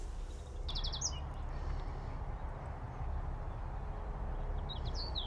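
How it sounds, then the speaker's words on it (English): Two brief, faint British garden bird chirps sound in the distance, one near the start and one near the end, over a low steady outdoor rumble. "I just love all the sound of the British bird song."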